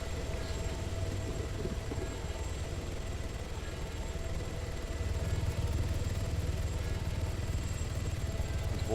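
A helicopter in the ArmA 3 video game drones steadily throughout with a continuous rotor and engine rumble that swells slightly louder in the second half, with no voices over it.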